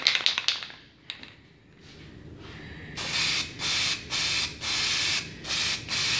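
An aerosol can of primer spraying onto a water stain on a ceiling, first a few short ticks and a rattle, then a run of loud hissing bursts with short pauses between them, close by.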